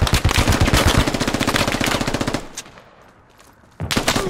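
Rapid sustained automatic gunfire in the military shooter game Squad, loud and close for about two and a half seconds before cutting off, followed by quieter rumble and a sharp burst returning at the end.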